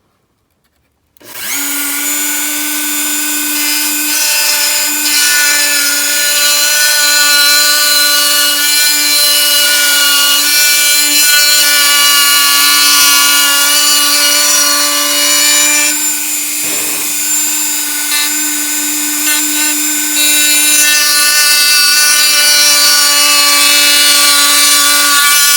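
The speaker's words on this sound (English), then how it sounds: "I'll end up milling the entire thing here in the video" A Dremel 4000 rotary tool milling a carbon fiber chassis for a Yokomo BD10 RC car gives a loud, continuous high-pitched whine and grinding that starts abruptly and holds steady, with a brief dip partway through.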